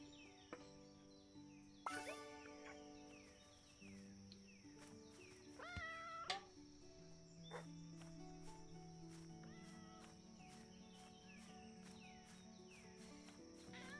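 Tiny kittens in a video game mew in several short, high cries scattered over a faint bed of cricket-like chirps and soft game tones.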